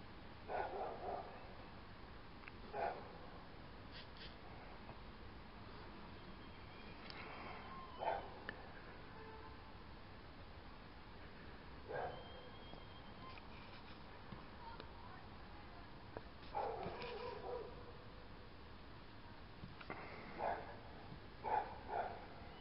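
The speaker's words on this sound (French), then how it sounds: "Chien qui aboie." A dog barks at night in the distance, a few faint, scattered barks in short bursts over a quiet, hissy background.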